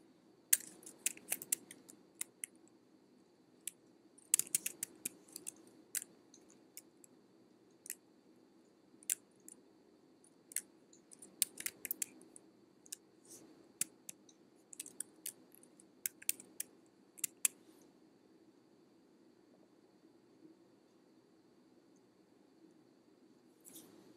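Computer keyboard keys tapped in short irregular bursts during data entry, with Tab and Enter strokes, faint and close, the clicks clustering in quick runs and then trailing off into quiet room hum.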